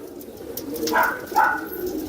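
An aged pigeon of about 23 to 24 years, kept among purebred birds, gives two soft, close coos about half a second apart over a quiet background, with no talking.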